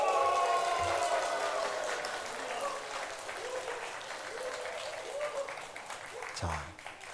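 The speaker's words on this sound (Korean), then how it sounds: "함성을 지르고 박수!" A church congregation in Korea claps and cheers together during a sermon, loud sustained applause with shouts that gradually thins out, heard from within the crowd.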